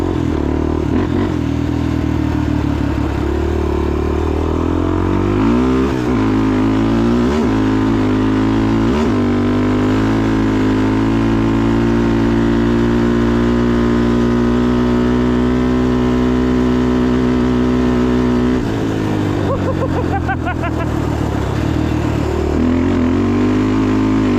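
A Honda TRX416EX ATV fitted with a custom rear shock accelerates hard in fifth gear, its engine droning loud and close with a steady high rev and several pitch dips and climbs between shifts, with no talk.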